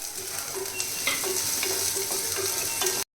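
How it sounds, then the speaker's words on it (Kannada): Mustard seeds, curry leaves, a chilli and onion fry in oil in a kadai with a lively close sizzle, broken by a few scraping stirs, and it cuts off abruptly at the end. No one speaks. "ನೆಕ್ಸ್ಟು ಕಡಾಯಿಗೆ ಎಣ್ಣೆ ಹಾಕ್ಕೊಂಡು ಸ್ವಲ್ಪ ಸಾಸಿವೆ ಹಾಕ್ಕೊಳ್ಳಿ, ಸ್ವಲ್ಪ ಕರಿಬೇವಿನ ಸೊಪ್ಪು ಮತ್ತು ಒಂದು ಮೆಣಸಿನ್ಕಾಯಿ ಮತ್ತು ಈರುಳ್ಳಿ ಹಾಕ್ಕೊಳ್ಳಿ"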